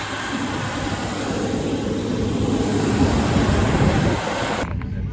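Steady broadband roar of an airplane cabin during takeoff, heard from the back of the plane, loud and constant with a low engine rumble, cutting off abruptly near the end.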